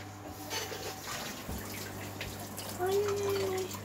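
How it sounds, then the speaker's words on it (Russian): Tap water running steadily into a sink while a hand is washed, a low continuous rush with faint splashes, fairly quiet, with a brief vocal tone partway through. "Надо помыть свою руку."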